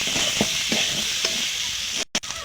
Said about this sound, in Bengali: মশলাটা আর একটু ভালো করে কষিয়ে নেব